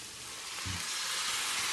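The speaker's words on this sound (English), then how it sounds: "And I'll add the tomatoes." Tomatoes go into a chicken curry frying in a pan. A loud, steady sizzle and hiss fills the whole moment, with a soft thud as they drop in.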